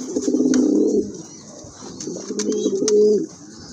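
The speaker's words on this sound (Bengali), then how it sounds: "আরেক জোড়া কবুতর, এটা হচ্ছে আপনার সবজি রেসার কবুতর, অনেক বড় সাইজের কবুতর" Large racer pigeons coo in two soft, throaty, warbling bursts, close by, with a faint hiss in the background.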